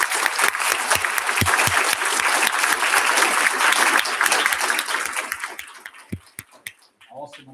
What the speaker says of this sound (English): let's give another round of applause to Center Hill High